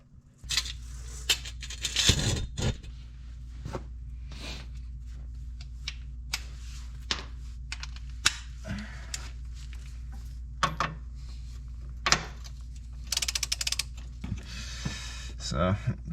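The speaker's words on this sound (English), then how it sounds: "so now I can basically undo these bolts here" Tight suspension bolts being worked loose on a Nissan 370Z, with scattered clicks, ratchet ticks and metallic knocks over a steady low hum, close by and fairly quiet, with a person talking at times.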